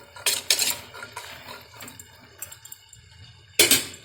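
Spoon clatters against a metal pot while chilli and curry powder are stirred into a curry of chickpeas, potato, meal maker and tomato, with a few sharp scraping knocks near the start and end and quieter stirring between, no talk.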